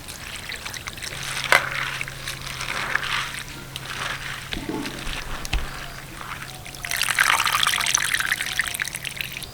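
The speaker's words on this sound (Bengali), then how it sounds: "এবার এই কোচানো বাঁধাকপিগুলো ভালো করে জল দিয়ে ধুয়ে নেব" Running water pours and trickles steadily over chopped cabbage being rinsed in a kitchen, with a low hum underneath and a brief clunk of handling midway.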